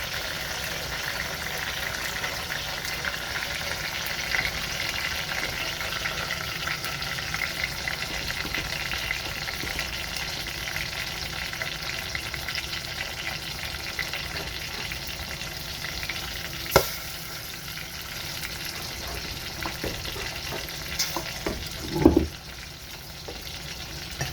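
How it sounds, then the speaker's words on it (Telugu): Garlic, onions and green chillies frying in oil for brinjal chutney, a steady close sizzle with occasional stirring scrapes and a couple of louder knocks near the end, no talking. "ఇలా పచ్చిమిర్చి, ఉల్లిపాయలు ఒక 2-3 నిమిషాలు వేపిన తర్వాత"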